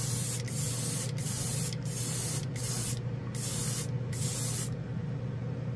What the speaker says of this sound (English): I just wanna test the airbrush quick.